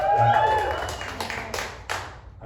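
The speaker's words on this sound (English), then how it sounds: "I'm going to encourage you to be cautious about applauding for political candidates" Comedy-club audience applause and scattered clapping after a political joke about Kamala Harris, starting strong and tapering into a few sparse claps, with a brief whistle-like tone early on.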